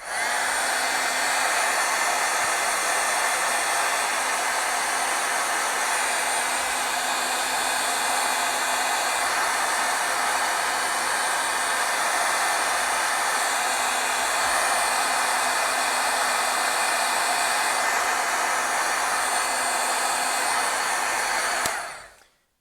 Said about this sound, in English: I'm going to heat set this for a little bit.